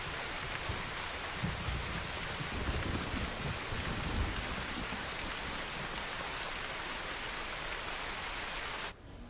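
Sudden rain falls in a steady, dense hiss of drops close by, continuous for several seconds before cutting off abruptly near the end.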